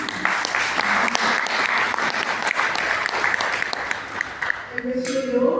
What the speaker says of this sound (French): Madame Bonaga Amélie, que j'aimerais qu'on l'applaudisse